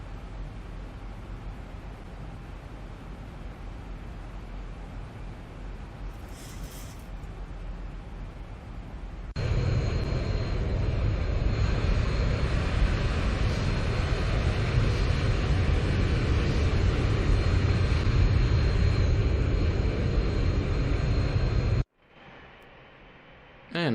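Boeing 737-800 engines in the X-Plane 11 flight simulator hum softly during approach for landing, then swell abruptly into a louder, steady roar that cuts off near the end.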